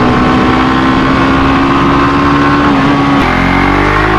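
A Suzuki GSX-S150 motorcycle engine runs loud and close with a sustained high-pitched drone, then the pitch drops abruptly near the end as the revs fall.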